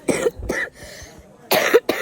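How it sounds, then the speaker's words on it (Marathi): Several sharp, close coughs in two short bursts from one person, with a brief pause between them. "ऐकूनच मला खोकला आला."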